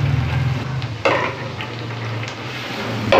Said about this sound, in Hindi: हमारा तेल अच्छे से गर्म हो गया। इस टाइम पे आके हम ये प्याज इसके अंदर डाल रहे हैं